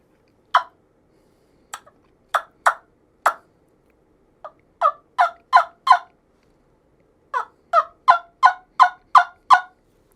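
Bullet-style turkey yelper call played by hand, a series of short sharp yelps in quick clusters separated by pauses, clear and close against a quiet background.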